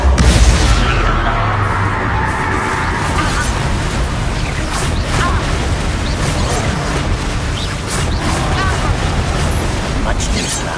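Confringo spell blasts burst during a Hogwarts Legacy battle, with a heavy explosion at the start followed by continuous rumbling, crackling combat noise and repeated pops under overlapping voices.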